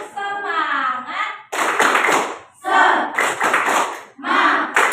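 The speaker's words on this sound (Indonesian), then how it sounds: "Tepuk semangat." A group plays a rhythmic clapping game, the spirit clap, with loud bursts of hand claps in short bunches alternating with voices chanting along in time.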